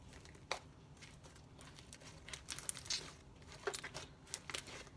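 Slime mixed with plenty of foam sponge pieces crunches and crackles as it is squeezed, giving quiet scattered crisp pops and crinkles in irregular bursts, close up and without talking.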